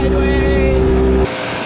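A Polaris UTV engine roars at full throttle, a loud, steady near drone with strong harmonic whine that cuts off abruptly partway through, leaving only quieter background noise.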